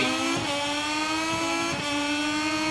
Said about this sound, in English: Okay, clutch is in, revs up.